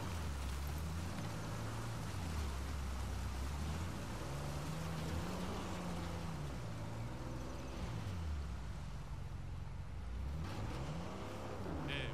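A 4x4 fitted with a winch drives over dirt tracks in Uncharted 4, its engine droning steadily and rising and falling in pitch amid continuous rumbling background noise, with no voices.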